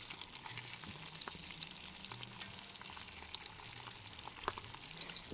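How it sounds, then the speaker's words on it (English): Meat pieces searing skin-down in hot fat for a Moroccan tagine-style stew, a continuous crackling, spattering sizzle that stays steady and close, with a few sharper pops and no talk. "I'm going to just let these sear for a bit"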